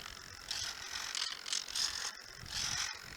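A servo in an RC thermal glider drives its control rods, making short, faint, whirring mechanical buzzes in several separate bursts with quiet gaps between them, heard alone and close up.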